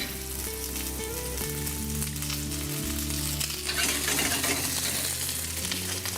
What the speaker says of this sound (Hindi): इसमें सेब डालते हैं, जिसको थोड़ा सा भुनना पड़े, जिसको हम थोड़ा सा सौते कर दें